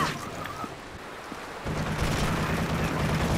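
Gunfire in Call of Duty MW3, a dense run of shots and booms that swells louder midway through, with voices talking faintly underneath.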